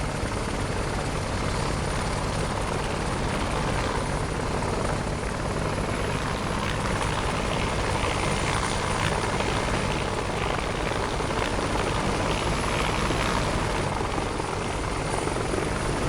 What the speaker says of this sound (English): Just a little baby chopper.